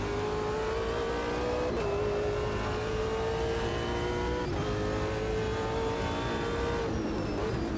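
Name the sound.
race car engine exterior audio in Automobilista 2 video game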